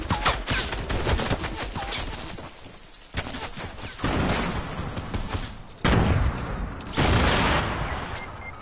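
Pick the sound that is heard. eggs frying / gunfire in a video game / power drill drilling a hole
gunfire in a video game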